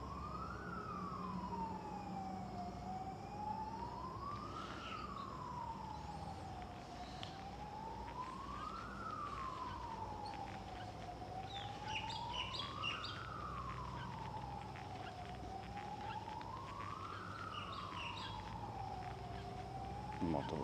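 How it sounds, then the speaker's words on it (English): A wailing siren rising and falling in slow, regular cycles at a moderate distance in Innisfail, Australia, with a second siren and birds chirping faintly behind it. "Multiple sirens as usual."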